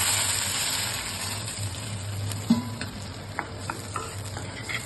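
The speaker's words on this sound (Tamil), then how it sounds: "1 கப் தண்ணி ஊற்றுறேன் நான்." Water is poured into a pan of roasted sago (javvarisi) for a semiya payasam, producing a constant sizzle and bubbling hiss with a few soft clinks near the end.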